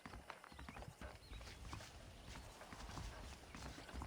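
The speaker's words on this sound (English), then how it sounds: "The horses are saddled up over here." Saddled horses in the Red Dead Redemption game clip-clopping steadily at a walk, hooves close and clear over a dense bed of ambient background noise, with a faint whinny.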